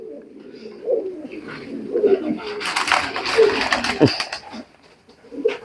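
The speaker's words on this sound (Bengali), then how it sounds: "কবুতর কিন্তু সেরকম অনেক দেখার মতো এক জোড়া কবুতর" Soft, throaty coos from a pair of racing pigeons repeat close by in a quiet space, with a brief rustle of wings or movement in the middle.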